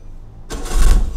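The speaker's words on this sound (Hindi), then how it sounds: "गाड़ी को हम यहाँ से स्टार्ट कर लेते हैं," A 1989 Suzuki Mehran, just restored, fires up close by: a second of quiet, then an abrupt burst of engine noise with a low rumble as it catches.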